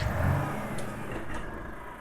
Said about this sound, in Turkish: Haydi bakalım otobüs kalkıyor.